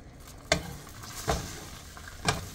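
An egg fries in olive oil in a wok with a steady soft sizzle, broken by three sharp scraping stirs spaced roughly a second apart.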